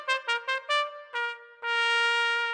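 The short unicorn song melody from Little Einsteins is heard alone as four quick bright notes and a short pause, then two more tones, the last one held long and full.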